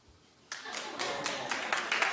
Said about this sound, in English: clap it like you mean it if you'll be watching